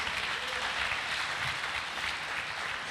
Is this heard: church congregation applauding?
yes